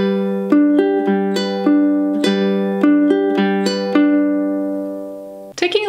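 A ukulele plays a fingerpicked pattern for a song at full tempo, clear plucked notes in a steady repeating rhythm, close and alone, ending with a brief scrape.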